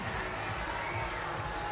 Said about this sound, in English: The crowd not pleased at all.